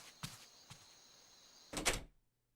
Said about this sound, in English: opened the door to apartment 201